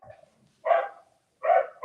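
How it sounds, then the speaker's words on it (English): A single dog barks three times in short, loud, close bursts separated by brief pauses, with no speech over it. "Somebody's dog is barking."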